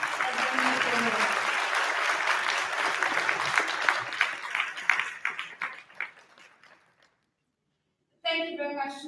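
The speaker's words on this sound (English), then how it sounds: "give a round of applause to my panelists as they move forward" A conference audience gives a sustained round of applause for a panel, loud and steady, then thinning to scattered claps and fading into silence before a voice begins speaking near the end.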